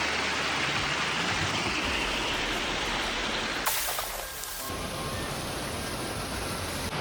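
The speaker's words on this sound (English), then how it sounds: "Check out that waterfall." A waterfall by a lower mountain lake on a hike near Gurtnellen, a steady, dense rushing roar that holds at an even loudness throughout and shifts briefly in tone partway through.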